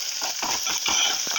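Urad dal and onion frying in a pan, a brief burst of sizzling with quick stirring scrapes, close and fairly loud, no speech.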